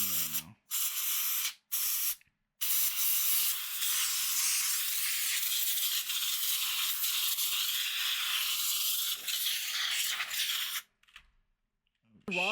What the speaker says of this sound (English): I'm using an air compressor.